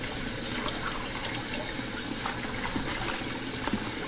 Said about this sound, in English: I'm going to be washing the next grains that I'm going to be using.